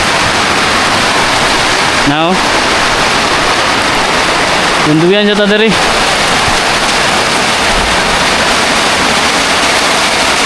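Heavy rain beats down on planted crops in a loud, steady hiss, while someone speaks briefly twice over the downpour.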